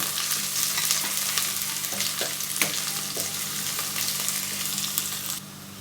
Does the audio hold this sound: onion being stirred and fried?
yes